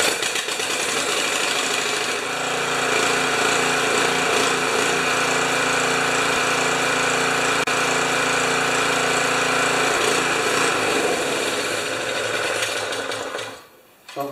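A Honda HS720 commercial snow thrower engine runs steadily close by after a freshly cleaned carburetor, a loud continuous mechanical drone with a buzzing, rattling edge that holds even for about thirteen seconds before cutting out abruptly.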